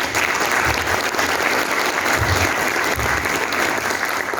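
Audience applause at an ESG business panel event in Lavras, a dense steady clapping from a seated crowd that holds at an even level throughout.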